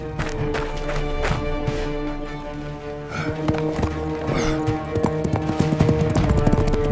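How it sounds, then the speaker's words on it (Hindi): Hooves of a galloping horse clip-clop in a steady, rapid rhythm, loud and close over a layered musical backdrop in an animated children's story. "घोड़ा हवा की रफ्तार से दौड़ने लगा"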